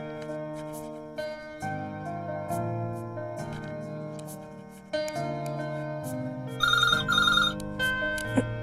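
A phone rings with a repeating electronic ringtone melody, loud and near, shifting through several tonal phrases with a brighter trilling passage near the end, no voices over it.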